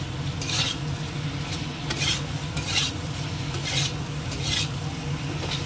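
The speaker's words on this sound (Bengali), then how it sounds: "এবার কোপ্তাগুলো দিয়ে একটু কষাবো।" Koftas fry in ghee in a pan while a spatula stirs them: regular scraping strokes roughly every second ride over a steady, close sizzle, with no voices.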